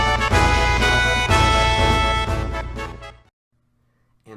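Orchestral game music from the Final Fantasy VII soundtrack: a loud, full brassy fanfare with sustained chords, cutting off abruptly near the end, followed by near silence.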